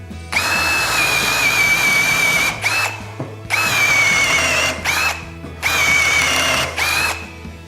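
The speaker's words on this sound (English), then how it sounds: "We've got our drill bit in our jig. We just need to turn it on" A power drill spins a bit held in a sharpening jig, giving three long, loud whining bursts with a high steady tone, each separated by brief pauses as the bit is moved.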